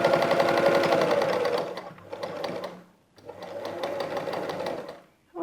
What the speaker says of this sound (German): Und nähen unsere Naht wie beim ersten Mal